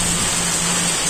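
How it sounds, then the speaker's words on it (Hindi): Heavy rain pours steadily in a broad, even hiss with a low hum underneath, loud and close throughout. "इतना तेज बारिश है"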